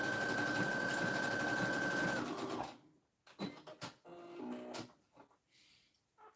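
Sewing machine zigzag stitching a fabric tissue holder, a continuous close mechanical whir for about two seconds that stops abruptly, followed by small handling clicks and rustles.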